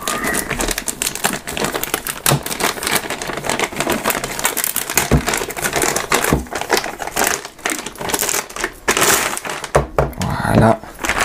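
The packaging of a QNAP TR-002 two-bay drive enclosure is torn open with loud, close crinkling and tearing of cardboard and plastic in rapid bursts, while someone talks briefly.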